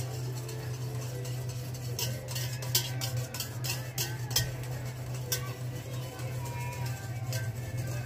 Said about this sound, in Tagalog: So haluhaliin lang natin hanggang sa mawala yung medyo buo-buo ng konti.